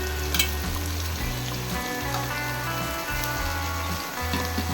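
Chillies frying in a pan for a prawn chilli gravy, with a steady crackling sizzle and short bursts of stirring. The pan noise is close and runs on without speech.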